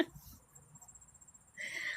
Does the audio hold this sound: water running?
no